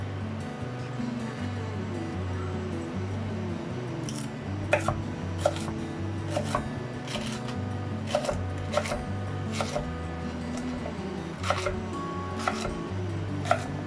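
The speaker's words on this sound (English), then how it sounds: "Cutting, chopping and adding, chopping and adding." A knife chops leeks steadily on a cutting board, crisp irregular taps over a constant low humming background.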